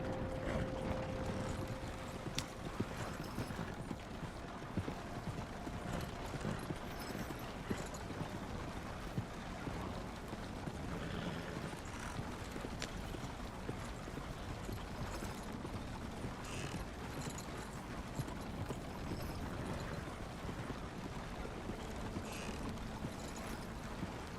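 Steady clip-clop of horse hooves mixes with creaking, rattling wagon wheels in Red Dead Redemption 2, a continuous, even rumble with no talking.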